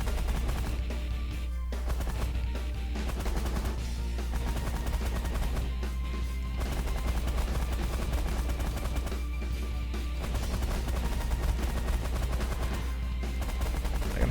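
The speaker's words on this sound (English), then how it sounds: "What kills you quickly is the minigun. Please fire it before they bomb me." A minigun in The Last Federation space strategy game fires at shuttles, producing a continuous rattling stream of rapid automatic shots broken into long bursts with short gaps, steady and loud over a low hum.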